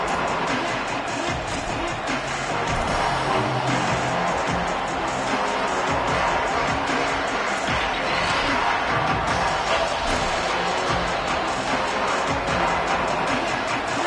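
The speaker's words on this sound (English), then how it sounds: "This crowd ready to make its presence known." A college football stadium crowd at a Clemson versus West Virginia game roars in a dense, continuous wall of noise, with faint cheering swelling in places.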